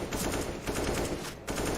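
Rapid automatic rifle fire rattles in a Counter-Strike match on Mirage, a dense, continuous burst of shots, close and loud, filling the whole short moment.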